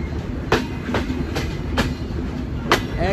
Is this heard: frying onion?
no